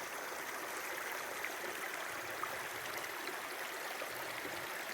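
A mountain stream rushes at a hiking trail water crossing, a steady broadband wash of flowing water that stays even and continuous, with no talking.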